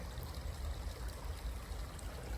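Creek water flows through Topanga Canyon in a faint, continuous trickling babble, close by and steady, with no talking.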